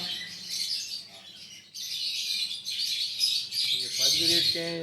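Lovebirds in a breeding setup, blue pale fallow and opaline mutations, chirp continuously in a dense, close, high-pitched chatter. A voice talks briefly underneath toward the end.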